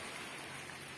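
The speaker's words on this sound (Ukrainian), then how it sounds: "Море, дождик." Steady rain falling at the sea, a dense, even hiss of drops spread across the whole second with no voices.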